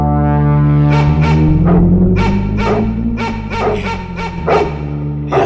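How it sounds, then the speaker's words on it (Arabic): Several dogs bark in a series of sharp repeated yelps over a sustained low drone, the barks spaced irregularly and moderately close, growing busier toward the end. "أصوات الكلاب دي،"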